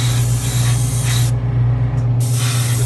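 A spray gun lays on lacquer thinned with lacquer thinner in a loud, close hiss that cuts out briefly mid-way and then resumes, over a steady low compressor hum.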